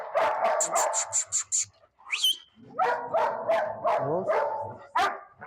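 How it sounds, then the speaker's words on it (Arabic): A local Egyptian baladi street dog kept on a farm barks in rapid, loud bursts close by, with a brief high yelp in the middle before the barking resumes; someone speaks a single word. "ده كلب بلدي بتاع الناس الفرنساويين استضافه"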